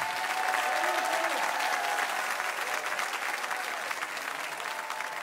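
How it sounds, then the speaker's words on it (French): Loud, sustained applause from a live concert audience greeting a singer on stage at a Cap48 show, dense steady clapping with faint crowd noise throughout, easing slightly toward the end. "réservez-lui un tonnerre d'applaudissements"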